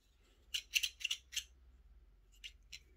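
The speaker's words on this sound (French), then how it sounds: "Alors, je pense que c'est pour couper le fil" Small thread cutter from a cross-stitch kit snipping embroidery thread: a quick cluster of four crisp, close snips, then a short pause and two more clicks, with quiet surroundings.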